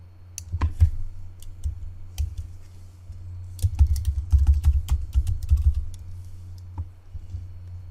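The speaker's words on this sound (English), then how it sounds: "Now the password, I just happened to remember that, so I'm going to type that in." A password being typed on a computer keyboard, with quick irregular clusters of key clicks and clacks close up, pausing briefly midway before another fast run of keystrokes.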